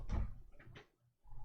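A door is opened to let a cat in indoors: a quiet thump and creak followed by a brief scrape, close but faint, with a low hum of the room around it.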